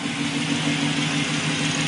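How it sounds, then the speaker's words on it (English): A car with a custom single-in, dual-out exhaust and Flowmaster 40 series mufflers, from an auto repair shop in Ashland, PA, idles with a steady, even rumble and no break. "custom exhaust. Like I said, Flowmaster 40 series mufflers. Single in, dual out."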